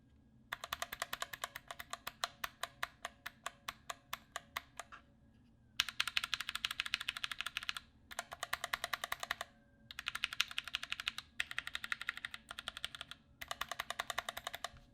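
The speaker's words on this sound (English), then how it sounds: "these keycaps, the low profile ones at least, sound a million times better than something like these ones, especially on this keyboard" Fast typing on a Roccat Vulcan TKL keyboard with low-profile keycaps and Titan switches, crisp and close, coming in steady bursts separated by brief pauses, quiet overall and with no talking.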